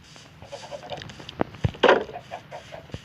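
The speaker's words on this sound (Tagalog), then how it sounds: "Manok." A Minecraft chicken clucks several times in short, uneven bursts, with one louder squawk partway through, fairly close and with no talking.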